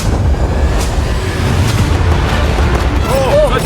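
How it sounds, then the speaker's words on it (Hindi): Fireworks launched at a yacht in a video game make a loud, continuous wash of booming rumble and crackle, with a brief rising whistle near the end. "फायरवर्क्स को फायर करो।"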